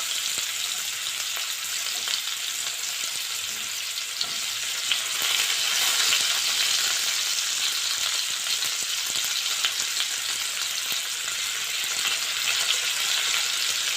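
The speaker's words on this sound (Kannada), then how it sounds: "ಇದಕ್ಕೆ ಸಣ್ಣದಾಗಿ ಕಟ್ ಮಾಡಿ ಇಟ್ಕೊಂಡಿರುವಂಥ ಈರುಳ್ಳಿ ಹಾಕೋತಾ ಇದ್ದೀನಿ." Finely chopped onions frying in oil in a pan for a chicken fry, a loud, continuous close-up sizzle that holds steady throughout with no talking.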